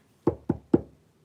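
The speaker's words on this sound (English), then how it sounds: "I think you guys hear the knock." Three sharp, evenly spaced knocks on a door, close and distinct, each with a short hollow decay, in an otherwise quiet room.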